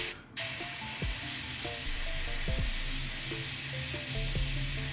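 A steady, fine hiss of an airbrush spraying paint onto a small fishing lure continues throughout, with a few soft knocks and taps underneath.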